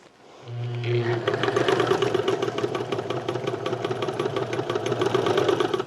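A vintage Singer 99 sewing machine starts up and stitches across fabric, a steady rapid mechanical whirring hum with a fast needle clatter, close and continuous.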